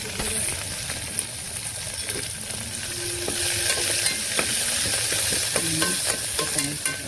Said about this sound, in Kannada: ಈ ಬೆಳ್ಳುಳ್ಳಿ ಕೆಂಪಾಗಸ್ತವನ್ನ ಸುಡಬೇಕು.